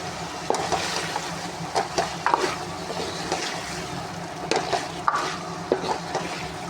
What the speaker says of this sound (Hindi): ये चिकन की अच्छी तरह से बुनाई कर दी